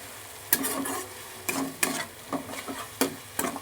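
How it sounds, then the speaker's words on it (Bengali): Wet masala with a splash of water fries in a pan while a spatula stirs it, sharp scraping strokes arriving every half second or so over a low sizzle. "এবার মশলাটাকে আমি ভালো করে কষাবো"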